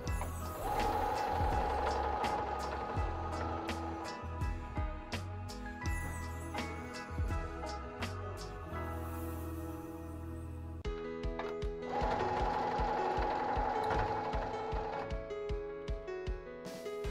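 A sewing machine runs a safety seam along the ruffle of a Christmas placemat, a steady whirring mechanical hum with rapid rhythmic ticking and clatter that pauses briefly near the middle, then resumes, heard up close without voices.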